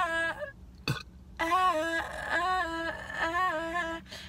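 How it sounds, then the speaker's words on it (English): A long, drawn-out burp with a strained, tonal quality, broken into several pulses over a few seconds, close and fairly loud with a quiet room behind it. "How funny and quirky of you to burp."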